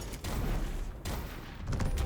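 Bomb blasts in the video game Cal & Bomba, a dense crackling barrage of explosive bursts in a few clustered waves, loud and rapid, with no voice over them.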